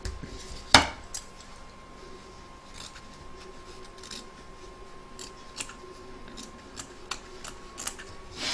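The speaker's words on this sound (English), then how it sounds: "you're going to trim away all the excess fabric," Scissors trim excess fabric from an embroidery hoop, one loud sharp snip followed by a run of lighter scattered clicks and cuts over a quiet background hum.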